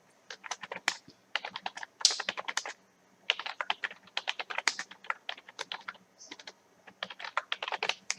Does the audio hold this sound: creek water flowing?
no